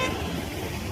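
Road traffic hums and rumbles steadily nearby while a car horn toots over the engine noise in a brief burst.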